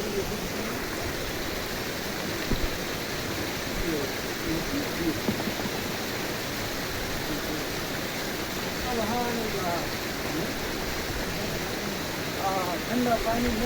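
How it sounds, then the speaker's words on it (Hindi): Cold canal water rushes steadily in the high mountains of Azad Kashmir, a constant broad wash of flowing water with a few faint voices and bird-like chirps in the background. "ठंडा पानी, नहर से बहने वाला पानी"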